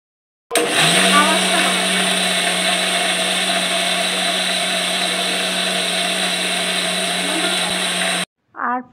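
A blender grinds raw mango with sugar, salt and water into paste, a loud steady motor whine that starts abruptly, runs about eight seconds and cuts off, followed by a short second burst.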